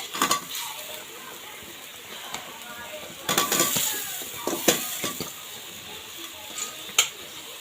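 Potatoes and onions frying in a pan with cinnamon and white cardamom for an egg curry: a steady soft sizzle broken by louder bursts of spoon scraping and stirring, with no talking.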